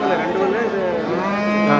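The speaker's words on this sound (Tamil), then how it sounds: "உழவு மாடு" Cattle at the Manapparai cattle market, including plough bullocks, give a loud, sustained moo of nearly two seconds that rises and falls in pitch, with no talk over it.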